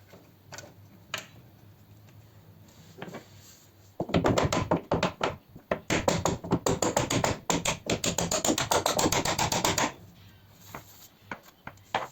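A hinge pin is tapped back into a room door hinge, heard as a few faint knocks followed by a long run of rapid, loud, close tapping strikes that then stops, leaving quiet.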